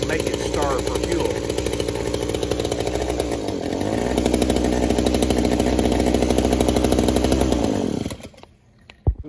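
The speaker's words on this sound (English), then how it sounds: "We got that little hedge trimmer going one more time." A small hedge trimmer two-stroke engine with a Zama or Walbro carburetor runs at a loud, buzzing steady idle that rises in pitch partway through, then cuts off abruptly near the end.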